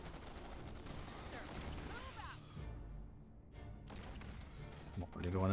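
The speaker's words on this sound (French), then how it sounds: "un petit canon anti-recul des familles, ça fait toujours plaisir." Recoilless cannon fire in the Starship Troopers Urban Onslaught video game, heard as a heavy, sustained barrage of booming blasts and crashes under game voices, with a sharp loud burst at the end.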